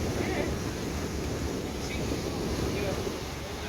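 A yacht cruises over calm sea near Fisherman's Island in Papua New Guinea, giving a steady broadband wash of hull, water and wind noise that stays even and fairly loud throughout with no talk.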